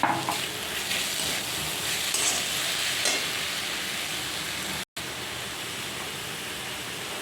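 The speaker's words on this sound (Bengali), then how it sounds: "ফ্রাই করতে দিলাম লঙ্কার গুঁড়ো আর দিলাম ধনে গুঁড়ো" Chili powder and coriander powder fry in a pan with a steady, close, hissing sizzle and occasional stirring scrapes, with no talking.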